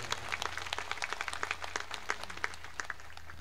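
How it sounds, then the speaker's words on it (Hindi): An audience at a memorial gathering claps together in a dense, steady patter of many hands, moderately distant and fairly quiet, with no one speaking over it. "जोरदार तालियां बजा करो"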